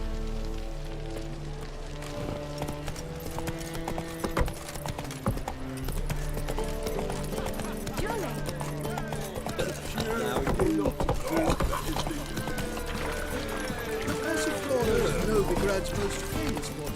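Roach the horse gallops in The Witcher 3 with rapid, steady hoofbeats throughout, over a soft, rain-like wash of background noise.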